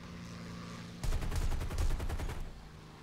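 Machine gun fire from an enemy Yak-3 fighter in War Thunder: a rapid burst of rattling shots lasting about a second and a half, loud and harsh over a steady engine drone, with no talk.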